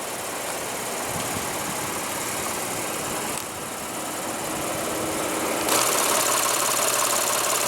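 A 2015 Lexus GS350 with a 3.5-liter V6 runs steadily close by, a constant dense hum and whir that gets a little louder toward the end.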